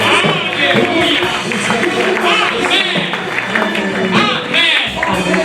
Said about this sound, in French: Jésus, acclame-lui, il mérite des acclamations.